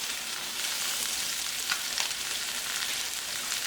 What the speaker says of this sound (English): I'm going to put in my onion